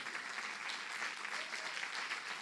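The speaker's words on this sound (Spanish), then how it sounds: "Si va a aplaudir para Dios, hágalo fuerte." A church congregation applauding, a dense, steady wash of clapping from many hands that holds evenly throughout at a moderate distance.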